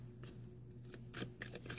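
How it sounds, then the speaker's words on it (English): Tarot cards are shuffled by hand in a few quick, soft riffling bursts, close but quiet over a faint low hum. "As soon as I shuffle your cards here for a couple more shuffles."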